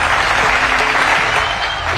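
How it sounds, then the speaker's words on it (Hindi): Large outdoor crowd applauding loudly and steadily at a foundation stone ceremony for the Ganga Expressway in Shahjahanpur with the Prime Minister present, a dense unbroken wash of clapping from start to finish. "जोरदार तालियों के साथ स्वागत करें।"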